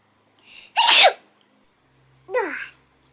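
A person sneezes twice indoors, a short double burst followed after a pause by a second sneeze, close and clear with no talk over it.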